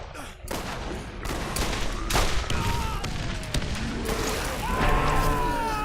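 Explosions and gunfire in Borderlands 1: rapid bursts of shots and sharp blasts come in a dense, loud barrage, with whining tonal effects sweeping through.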